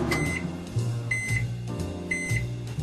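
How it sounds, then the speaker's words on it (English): A microwave hums steadily while a high electronic beep sounds in short pairs, repeating three times. "when the timer's done, what does it do? Beep beep, just to let you know the food's done."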